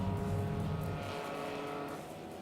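Race car engines roar together nearby at Ohsweken Speedway, packing the dirt track, the loud rumble slowly easing off as the cars move around the track.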